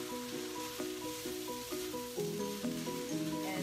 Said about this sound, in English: Toss them around until they cook